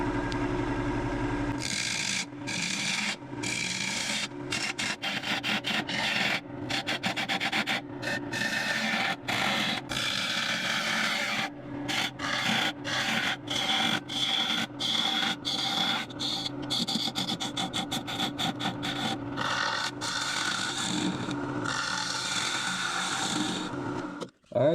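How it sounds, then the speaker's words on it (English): A woodturning lathe hollows out a wooden piece: continuous rasping, scraping tool contact against the spinning wood with rapid, rhythmic chattering cuts and brief pauses, close and steady throughout. "We're done hollowing it out."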